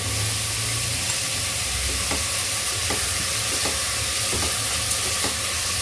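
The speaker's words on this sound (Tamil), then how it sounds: "ஒரு 5 மினிட்ஸ் நல்லா வதக்குங்க" A pan of ridge gourd sizzles steadily while a utensil stirs and scrapes at regular intervals, producing soft rhythmic clicks over the constant frying hiss.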